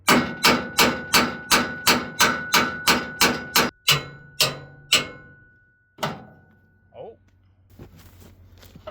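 A dozen sharp metallic whacks of an axe striking rusted metal in quick, steady rhythm, then a few slower, scattered blows trailing off, close and loud.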